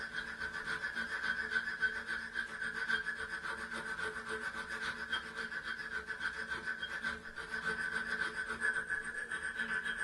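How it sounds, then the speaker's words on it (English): A needle file rasps a slot wider in a wooden waste jig, a steady, continuous scraping that runs unbroken for about ten seconds, close but fairly quiet, with no talk. "Enlarge the slot with a needle file until the rule fits."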